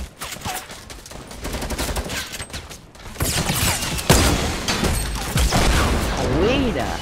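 Gunfire in PUBG or Fortnite, rapid bursts of shots and dense fusillades, some sharp and close, others rolling, with loud impacts, under excited voices talking over the action.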